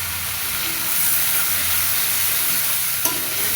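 Turmeric and chili powder sizzle and fry in a pan while being stirred, a steady close hiss with a brief clink near the end.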